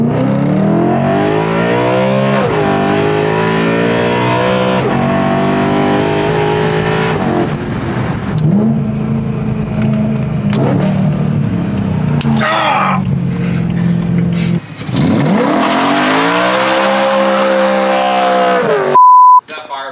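A BMW E90 M3 engine revs hard on a test drive, its loud tone climbing and falling through repeated pulls with gear-change dips, recorded close from inside the car and briefly broken by a beep near the end.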